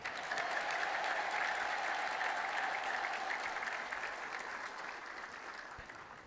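A congregation at a church celebration claps in a loud, continuous round of applause that holds steady, then gradually thins and fades toward the end.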